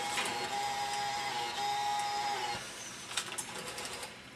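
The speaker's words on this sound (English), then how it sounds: "if I want to make sure that the printer itself is actually working, I can hit print" A label printer attached to a tall glass washer prints quietly, giving a faint whirring run with a thin high tone, followed by a few soft clicks and rattles as the label feeds out.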